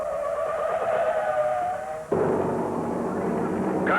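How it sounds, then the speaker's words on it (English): Car number 21, a NASCAR Modified in the 1968 Cardinal 500 at Martinsville Speedway, slams hard into a concrete retaining wall after running wide into turn one. A whining engine drone gives way halfway through to a sudden heavy impact and a loud, rough, noisy roar. "He lost it and slammed hard into the concrete retaining wall."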